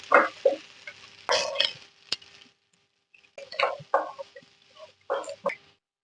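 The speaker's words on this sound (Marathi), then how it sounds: "आता ह्याच्यामध्ये आपल्याला कांदा चांगला भाजून घ्यायचा आहे" Onions frying in ginger-garlic paste in a pan while being stirred, made for a dahi bhindi masala: bursts of sizzle and scraping strokes come in irregular clusters, with short quiet gaps between them.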